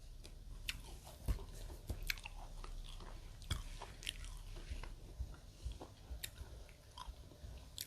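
Close chewing and biting through a meal of stewed quail cooked with mixed vegetables, soft wet crunches and smacking bites scattered irregularly over a low steady background, with no talk.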